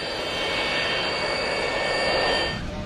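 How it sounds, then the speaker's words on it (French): A Cessna and an SAS airliner begin to taxi in fog, their engines producing a steady, loud, broad jet roar with a high whine that holds evenly for nearly three seconds before easing slightly. "Dès que le Cessna et l'avion de SAS ont commencé à rouler"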